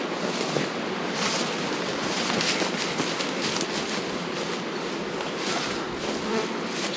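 Honey bees swarm and buzz in a continuous dense drone over a hive comb being cleared from a lowland super, close and steady with no talking.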